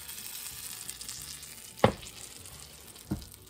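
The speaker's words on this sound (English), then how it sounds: "Hear it sizzling" Soft steady sizzling and bubbling from a freshly baked apple pie just out of the oven, with a couple of sharp knocks or clatters over it.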